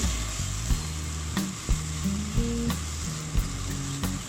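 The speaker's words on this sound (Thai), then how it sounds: "แล้วก็ทำการผัดคลุกเคล้านะครับ ในส่วนผสมทั้งหมดเข้ากันนะครับ" Keto ginger chicken stir-fried in a pan, a steady close sizzle broken by regular scrapes and clacks of the utensil as the ingredients are tossed together.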